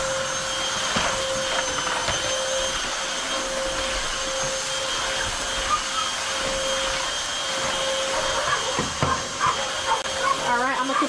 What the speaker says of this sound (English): As you can see, it's sucking up all these little pieces over here.